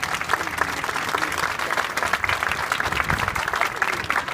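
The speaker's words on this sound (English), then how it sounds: "Absolutely give this a round of applause." An outdoor crowd at a building ribbon-cutting ceremony applauds, giving dense, even clapping that stays loud and steady throughout without a voice over it.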